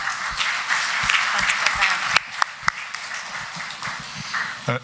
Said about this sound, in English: So if we can all applaud to that again.